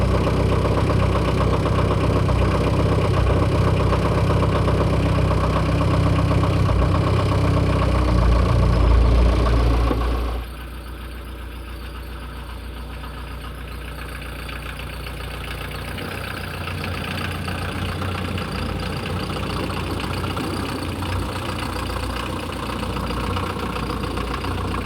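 A homemade snow-clearing machine's engine idles with the clutch held down while it warms up. A steady low rumble drops to a quieter, smoother idle about halfway through, and no one speaks.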